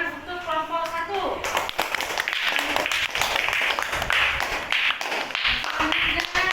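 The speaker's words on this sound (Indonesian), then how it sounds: "tepuk tangan untuk kelompok 1" A classroom of students claps for a group that has just finished presenting on plant reproduction, a dense patter of hands that runs steadily with voices mixed in and no break in the noise.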